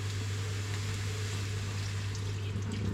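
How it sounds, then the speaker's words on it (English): Water pouring into a pan of gnocchi and sauce in a home kitchen, a steady, continuous rushing hiss over a low electrical hum, close and moderately loud throughout. "add some water."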